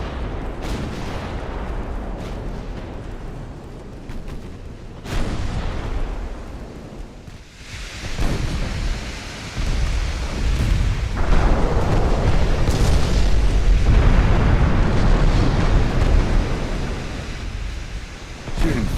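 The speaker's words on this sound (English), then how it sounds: "their transports are firing back" Naval gunfire from 1890-era transports and a battleship in Ultimate Admiral: Dreadnoughts, sharp cannon blasts and booming shots punctuating a loud, continuous rumble of battle.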